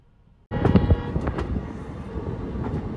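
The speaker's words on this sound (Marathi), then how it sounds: "सुपरफास्ट 130-140च्या स्पीडनी गाडी आलेली आहे." A superfast train rushes into Beed railway station at around 130–140 km/h, its loud rumbling roar bursting in suddenly after a near-silent moment and then holding steady, with no talk over it.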